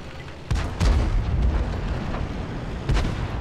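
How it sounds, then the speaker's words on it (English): Artillery fire in the tank battle game World of Tanks, a loud deep boom followed by rumbling blasts and a later sharp report, heavy low-end impacts with no talk. "Artillery, were we spotted, or was that just a lucky shot by him?"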